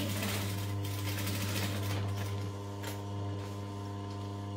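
Sewing machine stitching backpack pieces with foam, running steadily over a strong mains hum throughout, with no talk.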